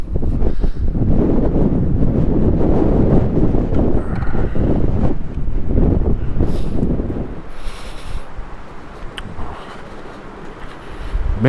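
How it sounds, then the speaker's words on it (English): Strong wind roars steadily through trees beside a lakeside trail at Big Laguna Lake during an electric bike ride, loud and gusting close to the microphone before easing somewhat near the end. "the wind is whipping so hard on the right-hand side right here in the trees"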